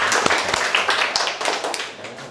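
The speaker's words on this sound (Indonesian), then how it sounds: "Oke, berikan tepuk tangan." Sparse, scattered hand claps from students in a university classroom, a handful of sharp claps spread irregularly over a couple of seconds against faint room noise.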